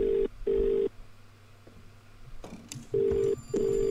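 In the horror video game The Cat Lady, an in-game phone dials out with short, evenly spaced tone bursts, a pause with faint clicks, then two more matching tones, clear and close with no talk.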